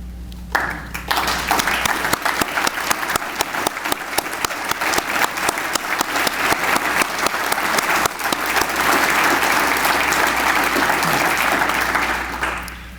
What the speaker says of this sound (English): I would ask that they please rise if able for a round of applause